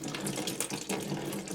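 Water drains from a loosened toilet supply line at the valve, a steady close rushing trickle that runs continuously for the whole moment with no talking.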